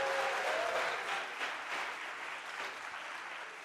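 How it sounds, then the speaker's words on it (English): An audience at a startup venture day event in Madrid claps together, a dense burst of applause that is loud at first and slowly thins over a few seconds. "So if we can please just give one clap to everyone who presented tonight"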